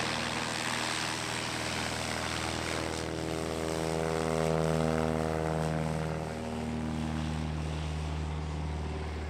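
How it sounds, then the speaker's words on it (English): A Glider FX Pawnee light aircraft flies past at an airshow on a beach, its piston engine and propeller droning steadily and loudly, rising to a peak as it nears and then easing slightly as it passes. "Getting the action underway is the Glider FX PA-28 Pawnee"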